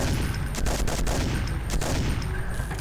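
Rapid weapon fire from Doom with the Project Brutality mod, a dense, continuous burst of shots with sharp repeated cracks running throughout at a steady loud level.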